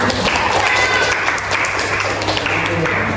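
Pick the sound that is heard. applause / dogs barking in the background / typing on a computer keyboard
applause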